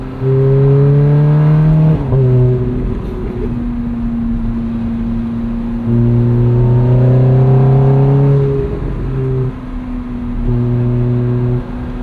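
A 2008 Ferrari F430 Spider's V8 revs hard while driving, loud and close, with rising engine notes broken by brief dips at gear changes, repeated several times over a steady road rumble.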